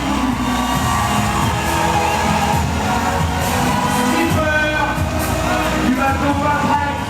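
Sustained crowd cheering and whooping at an ocean sailing race finish as skipper Johan steps onto the stage, a steady roar of many voices with scattered shouts.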